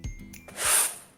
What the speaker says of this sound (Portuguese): Esse é o som da vassoura.